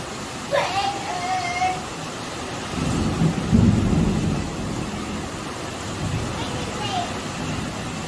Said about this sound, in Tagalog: Nakakatakot yung kulog,